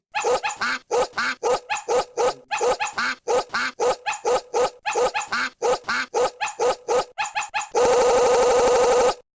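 A dog barks repeatedly in quick, loud bursts close by, ending in a sustained yelping howl.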